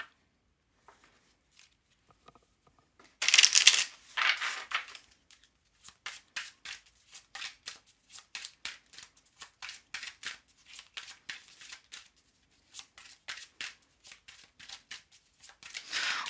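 A deck of tarot cards is riffled in one loud burst, then shuffled in a steady run of quick, close, papery flicks.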